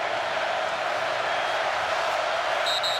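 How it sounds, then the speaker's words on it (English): An Oklahoma football stadium crowd cheers during a rivalry game against Texas, a broad, steady roar from a distant end of the stadium, continuous and fairly faint. "Oklahoma crowd has come alive here."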